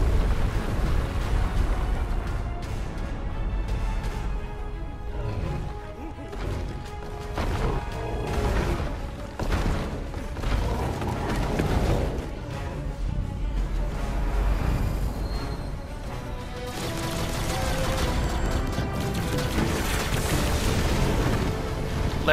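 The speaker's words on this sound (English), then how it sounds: "Dropping bombs." Bombs dropping and exploding in the video game Knack, a continuous barrage of loud, heavy booms and crashing blasts layered over dense game music and effects throughout.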